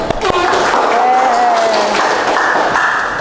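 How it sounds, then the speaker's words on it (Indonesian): A classroom of students applauds at a teacher's prompt, giving a short burst of close clapping mixed with voices and cheering. "Tepuk tangan dulu dong"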